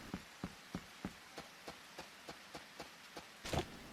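Rain falling in the Harvest Moon: Sunshine Islands video game, heard as a quiet, regular series of soft pattering ticks about every third of a second, ending on a slightly louder burst.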